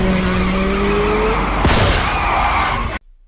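A rider is thrown from a motorcycle in an action-film crash scene, with a loud, sustained scraping skid and a sharp shattering impact midway, cut off abruptly near the end.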